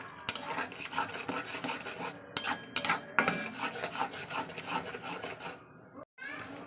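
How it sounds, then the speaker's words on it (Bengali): A spatula scrapes and rubs a spice paste with salt and turmeric around a pan as it sautés, making rhythmic rasping strokes with occasional metallic clinks, close and moderately quiet, then a brief pause near the end. "চলুন এবার মশলাটা ভালো কষিয়ে নেবো"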